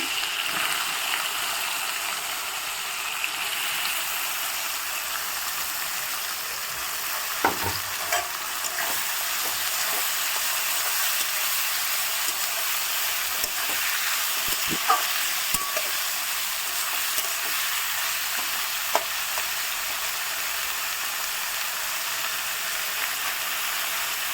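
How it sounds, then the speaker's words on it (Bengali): Onions sizzle steadily in hot oil in a pan while cooking a mutton dish, a constant bright crackling hiss with occasional sharper pops and stirring knocks, close and unbroken throughout. "তেলের মধ্যে দিলে বেশি ভালো হয় এবার পেঁয়াজগুলো আমি তুলে দিচ্ছি"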